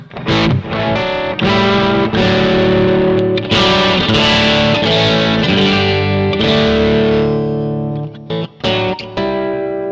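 Electric guitar with humbuckers played through a Matchless amp model on a Zoom MS-50G MultiStomp, chords and single notes ringing with crunchy distortion and some chorus, loud and continuous with brief pauses.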